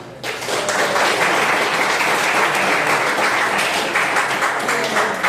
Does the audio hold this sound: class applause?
yes